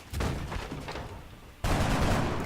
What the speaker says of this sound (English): Let's try and shoot this guy over here.